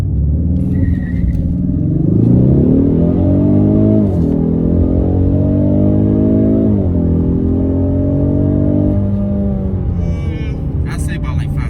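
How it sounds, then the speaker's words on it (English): A 2020 Ford Mustang High Performance Package with a 332 hp engine revs during a brake torque launch, a loud steady drone that rises and dips in pitch over several seconds, with people talking over it. "So you're gonna do a brake torque."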